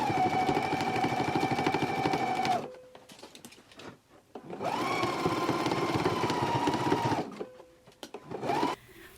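A sewing machine stitches a skirt hem in two long, steady runs, each lasting a couple of seconds with a brief pause between, then a short final burst, loud and close with no talking.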